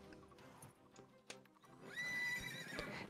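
A horse in the video game NU: Carnival lets out a loud, drawn-out neigh. Soft hoof clip-clops and faint rustling come just before it.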